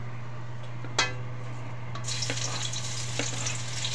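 Hot cooking oil in a pan sizzles steadily as garlic and onion go in for sautéed mussels, with a sharp clatter near the start and brighter frying hiss swelling after, plus light utensil taps.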